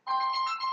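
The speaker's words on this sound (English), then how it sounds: "Uh oh wait. Hold on, that's the phone." A phone rings with a short electronic tone, a bright steady chime lasting under a second, close and alone.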